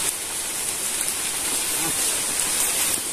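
Rain falls steadily at night in the outdoors of Oriental Mindoro, a continuous dense hiss of drops on leaves and ground, close and even throughout.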